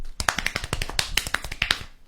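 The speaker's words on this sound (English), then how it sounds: "The fast clap." One person claps rapidly with the hands, a quick even run of sharp close claps, loud and alone with nothing else heard.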